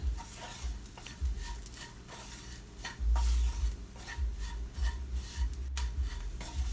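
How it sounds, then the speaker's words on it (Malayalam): Chili powder and ground pepper stirred together in a pan over low heat for Kerala-style mushroom curry, with steady scraping strokes and a soft sizzle, no voices. "ഇത് മൂന്നും കൂടി നന്നായിട്ട് ഇളക്കി കൊടുക്കണം ചെറു തീയിലിട്ടിട്ട് നന്നായിട്ട് കൂട്ടി യോജിപ്പിക്കാം"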